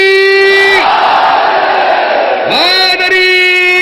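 A large crowd answers a caller with the religious slogan Haidari while raising both hands, a single loud collective roar that swells, holds for about two seconds and then breaks as a lone voice rises out of it.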